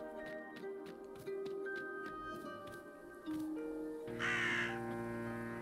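A crow caws repeatedly in the video game Drake Hollow, faint calls in an irregular sequence over soft game music and ambience, ending in a brighter burst of sound.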